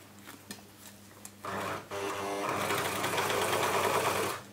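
An Elna L4 overlocker serger runs through layers of denim in short bursts, a close, loud mechanical whirring and chattering that starts, pauses briefly, then runs steadily for a couple of seconds.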